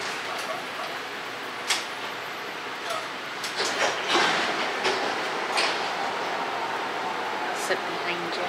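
Inside a MAX light rail train car, Type 2/3, stopped at the 158th Avenue station: a steady interior hum with scattered clicks and thumps, moderately loud, while people talk nearby.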